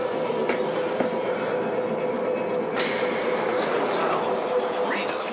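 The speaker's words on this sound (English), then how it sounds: "That's why I'm on this train." A train runs along rails, heard from aboard a carriage as a steady rumble with faint clicks and a brief squeal partway through, fairly quiet and continuous.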